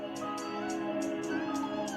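Drill-style hi-hats with randomized velocity and panning, ticking in quick rolling bursts with uneven accents over a sustained melodic beat, steady and close.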